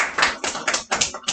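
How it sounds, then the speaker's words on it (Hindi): Students in a classroom clap their hands together in a quick burst of several sharp, close, irregular claps with no talking. "ताली बजाओ यार"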